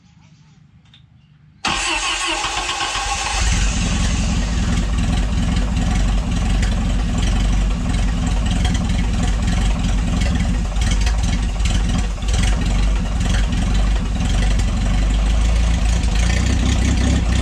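A rebuilt Willys L-134 Jeep engine cranks and catches after a quiet moment, then runs loud and continuous with a rough, steady idle rumble.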